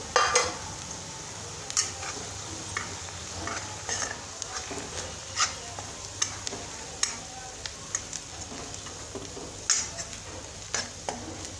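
Gram flour roasting in oil with fried onion in a pan, steady sizzling under a regular series of spoon scrapes and clicks against the pan, close and fairly loud.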